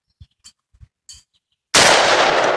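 A Saiga shotgun fires at a clay target outdoors: a few faint clicks and taps, then one loud, sharp blast with a long, noisy tail.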